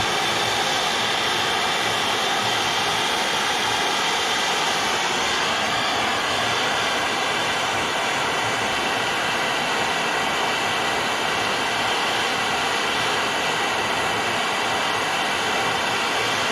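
A torch roars steadily and close while a troy-ounce silver bracelet, held in cold pliers and a vise, is heated and twisted; the broad hiss stays constant throughout, with no talking.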